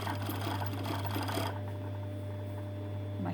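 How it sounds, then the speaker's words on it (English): An overlocker sews the hem of a 100% cotton poncho, running with a steady mechanical whir and a constant low hum, close by, then settling into a quieter, smoother drone partway through. "we're just going to overlock the hem"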